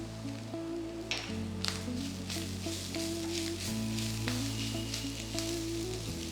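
Curry leaves sizzling in hot oil, a steady crackling fry with scattered pops, under a low background hum and tones, no talk.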